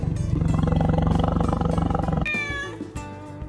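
A tiger roars at a cat in an animated story, a loud sustained growling roar with rough pulsing texture, followed by a brief higher whining cry as it trails off.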